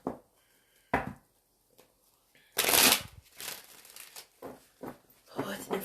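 Tarot cards are shuffled in several short bursts of riffling and flapping, close and fairly quiet, with a louder burst midway and brief pauses between them.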